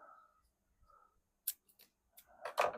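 Scissors trim a strip of cattail leaf for a handmade berry basket, a few quiet crisp snips close by, with faint low murmuring before them.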